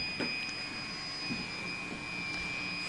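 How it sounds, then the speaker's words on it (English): A large 400x400x450 3D printer gives off a steady high whistle like a jet motor, with two sustained tones over a constant hum and a few faint clicks. "kind of whistles like a jet motor"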